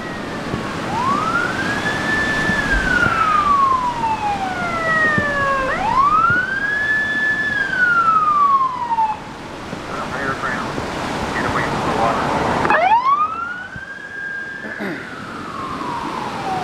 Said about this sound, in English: emergency vehicle.